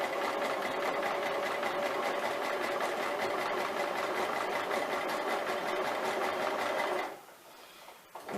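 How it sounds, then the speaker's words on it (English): Domestic sewing machine stitching a quarter-inch seam, a fast steady mechanical whir with rapid rhythmic needle clatter running close and continuous, then stopping abruptly near the end. "So I'm going to sew down here now."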